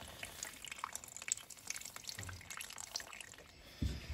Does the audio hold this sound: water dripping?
yes